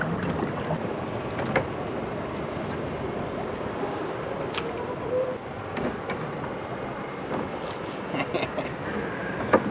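A fishing kayak glides through sea water near Gdańsk, producing a continuous close wash of rippling water and breezy rustle, with occasional small splashes and knocks.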